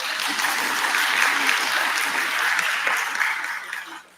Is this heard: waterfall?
no